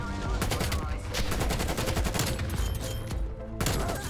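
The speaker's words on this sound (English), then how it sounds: "we've already got a VTOL on a strafe run" Sustained machine gun fire from a VTOL aircraft's strafe run in a Call of Duty video game, dense and loud rapid bursts filling the whole stretch with explosions mixed in.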